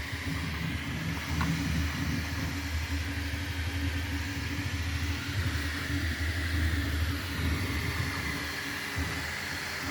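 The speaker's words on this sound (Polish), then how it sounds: "właśnie następuje pierwsze drukowanie łódki" A Bambu Lab A1 mini 3D printer running its first print of a small boat model, giving a steady mechanical hum and whir of fast-moving motors throughout, with no talking.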